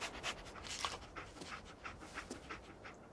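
Dogmeat, the dog companion in Fallout 4, pants in quick, steady breaths at moderate volume over soft background hiss.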